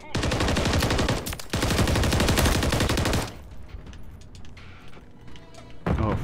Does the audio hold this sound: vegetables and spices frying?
no